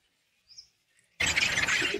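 A rescued sparrow, just washed and drying, gives a couple of faint high chirps, then a loud burst of dense, rustling bird noise fills the rest close up.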